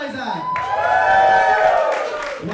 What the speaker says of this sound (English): Wow, you're cheering for being straight.